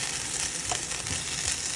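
Fried potatoes with coriander leaves being stirred in a pan, a dense continuous sizzle with soft scraping movements close by and no voices.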